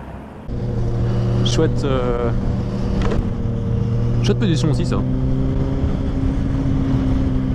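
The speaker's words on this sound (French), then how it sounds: "Donc je suis à bord d'une 660 XT de chez Yamaha." A Yamaha XT660X single-cylinder motorcycle engine thrums steadily while riding, loud and close, with a rider's voice talking over it in short bursts.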